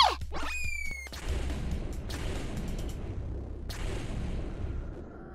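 Animated bombs explode to drive off a kraken: rising whooshing sweeps give way to a deep rumbling blast, and a second sharp boom follows a few seconds later over sustained low roaring, with no talk.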